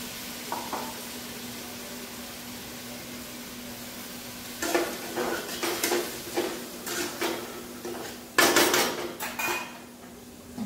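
Chopped ginger, chilli and tomato go into a hot pan, followed by a run of metal spatula clatters and scraping against the pan with a soft sizzle underneath, close and moderately loud, with no talk.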